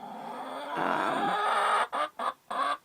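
Chickens cluck nearby in a coop: a low, steady murmur, then a few sharp clucking bursts toward the end.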